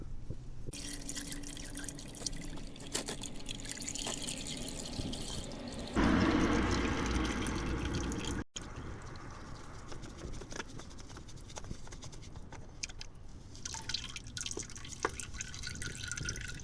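Engine oil drips from the drain of a Ford Fiesta into a drain pan during an oil change, a steady faint patter of drops heard close by with a brief louder splash in the middle.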